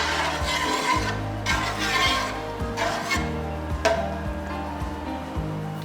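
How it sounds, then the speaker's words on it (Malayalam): A ladle stirring washed green gram through hot water in a pot, soft rhythmic scraping and rubbing strokes repeating about once a second, close up and steady over a low hum. "ഇനി നല്ലവണ്ണം ഇളക്കി യോജിപ്പിച്ചു കൊടുക്കാം."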